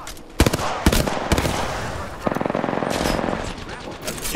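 Rapid automatic gunfire in an Apex Legends match, loud bursts of rattling shots in quick succession with short gaps between volleys, close and dominant throughout.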